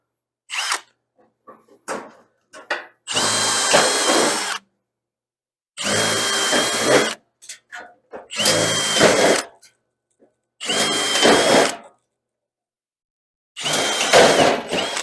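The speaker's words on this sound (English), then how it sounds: "we are going to drill out all the pop rivets, separating the skin from the fender top" A power drill whines in a series of short bursts, drilling out pop rivets joining a skin to a fender top, each a second or so long, separated by pauses and small clicks and clanks of metal.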